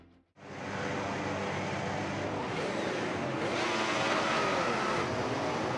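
Formula 1 race cars pulling away on a formation lap in a racing video game, with a loud, steady roar of many engines rising in together after a brief quiet start.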